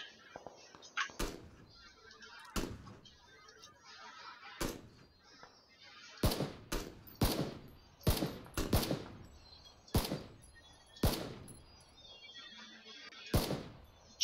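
Gunfire in an online battle-royale shooter while the player takes down two enemies, with about a dozen sharp, spaced shots ringing out close over quiet background.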